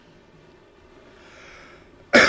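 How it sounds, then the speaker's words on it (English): A single loud, close cough bursts out at the end after a quiet, near-silent stretch. "I just needed a cough, man."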